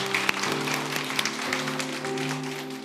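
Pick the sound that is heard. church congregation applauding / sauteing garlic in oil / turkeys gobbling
church congregation applauding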